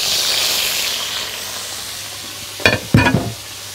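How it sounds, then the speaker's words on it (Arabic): Shrimp sautéing in a hot pan gives a steady frying sizzle and hiss throughout, broken near the end by two short louder bursts of stirring or tossing, close and clear with no talking. "هشوحه اهو"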